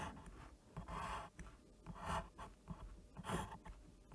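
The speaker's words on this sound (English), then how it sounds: "We're just going to draw a quick little cube here" A pen scratching across paper while sketching a quick cube, close and quiet, with irregular bursts of rubbing strokes separated by short pauses and no voices.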